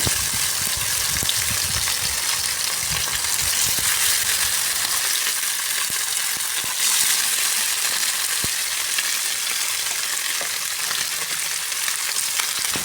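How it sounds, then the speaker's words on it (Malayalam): Fish pieces fry one by one in hot oil in a small pan, a dense, continuous crackling sizzle close up with small pops, steady for the whole stretch and no one speaking. "അപ്പുറത്ത് മീൻ ഫ്രൈ ചെയ്യാനുള്ള എണ്ണ ഒഴിച്ച് ചൂടാക്കി മീൻ ഫ്രൈ ചെയ്യാൻ വേണ്ടിയിട്ട് ഇതേ ചട്ടിയിലേക്ക് ഓരോന്നും ഇട്ടു"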